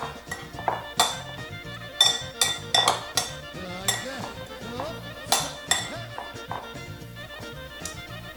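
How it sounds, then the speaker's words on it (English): A spoon mixing a Macedonian salad in a bowl, sharp clinks and scrapes against the dish coming in irregular bursts, close and clear with occasional quiet talk between them. "I'm gonna grab a spoon here, mix it up."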